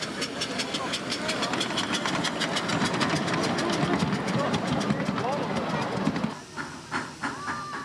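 A train rolls through a busy international railway depot, its wheels beating out a rapid, regular clatter over rail joints with a steady hiss, loud and close, then easing into quieter scattered clicks near the end.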